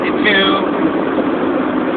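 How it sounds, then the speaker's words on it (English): A car engine hums steadily at moderate load while the car drives up a short hill, with a person talking over the continuous engine drone. "I'm not going to turn the engine off yet"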